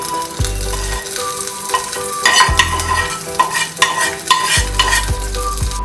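Mustard seeds, urad dal, a dried red chilli and curry leaves sizzle loudly in hot oil as the tempering is stirred and poured into cucumber chutney, with bursts of frying crackle and scraping throughout, no talking.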